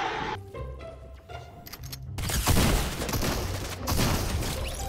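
Burst rifle gunfire in Fortnite, with a few sparse shots early on, then dense, loud clustered bursts of rapid fire carrying through the rest of the clip.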